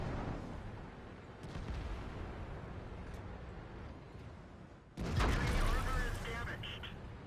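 A T110E5 heavy tank in World of Tanks fires its cannon, a loud, sudden blast about five seconds in after a stretch of low rumbling battle ambience and faint distant shots, with a voice talking over it.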